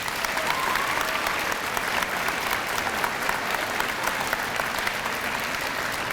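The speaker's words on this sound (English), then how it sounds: "Let's give them another round of applause," A school audience at a Veterans Day assembly gives veterans a round of applause, dense, loud and sustained clapping from many hands with no break, filling the hall.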